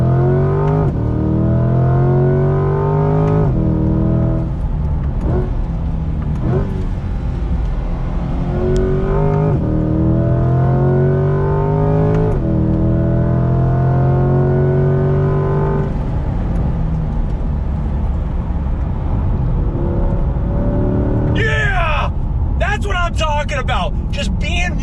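A 2020 Chevrolet Camaro ZL1 1LE on twisty roads, its engine heard from inside, rising in repeated pulls through the gears with steady drive noise underneath and someone talking over it.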